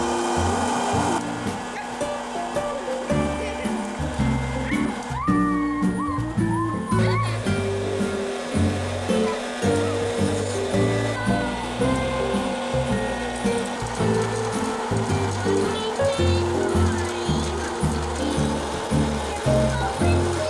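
An old-fashioned home popcorn machine warms up with kernels inside, giving off a continuous mechanical rumble and rattling hum, close and loud, while people talk over it.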